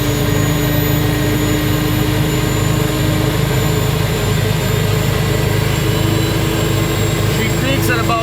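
Gas turbine engine of a 1959 GM Firebird III running at about 17,000–18,000 RPM, a loud, steady jet-like roar with a sustained whine that continues throughout.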